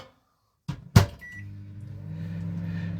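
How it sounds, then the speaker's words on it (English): A door clicks shut with a sharp thud, a short beep sounds, then a microwave oven starts up with a steady low hum. "just put it in the microwave."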